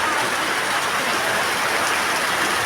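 Steady heavy rain pouring during a flood, a dense continuous hiss of falling water with no pauses, loud and close.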